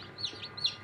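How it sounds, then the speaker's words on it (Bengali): A young desi chicken chick gives two short, high-pitched calls a moment apart, close by and fairly soft, with no voices. "একটা দেশি মুরগির বাচ্চা"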